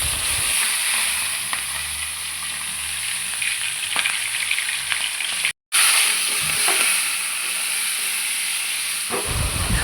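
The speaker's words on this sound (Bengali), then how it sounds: "মুগ ডাল এখানে ভেজে নেওয়া হয়েছে" Mung dal frying in a pan gives a loud, steady hiss and sizzle, close and continuous for several seconds apart from a momentary cut in the middle, with no voices.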